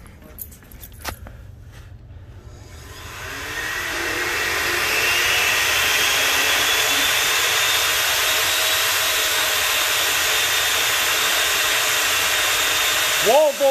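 A blender motor set to its highest ice-crush setting starts with a few clicks, spins up over several seconds and then holds a loud, steady whine.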